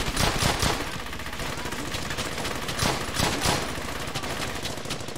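Bursts of machine gun fire ring out in the World War II shooter Brothers in Arms: Hell's Highway, loud, rapid rattling volleys over a dense battle din, with no talk.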